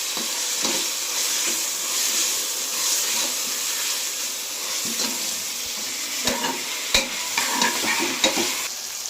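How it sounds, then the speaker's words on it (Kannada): Ginger garlic paste sizzles steadily in hot oil for a simple vegetable-free rice bath, a close, continuous hiss with sharp spoon scrapes and clicks against the pan toward the end. "ಎಣ್ಣೆಲ್ಲೂ ಚೆನ್ನಾಗಿ ಶುಂಠಿ ಬೆಳ್ಳುಳ್ಳಿ ಪೇಸ್ಟ್ ಫ್ರೈ ಆಗಬೇಕು."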